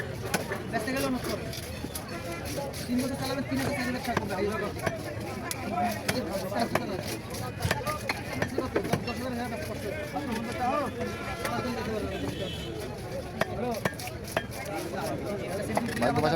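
A Brigade carp fish being cut into pieces at a fish-cutting stall, with a steady, dense run of chopping and scraping sounds under continuous nearby talk throughout.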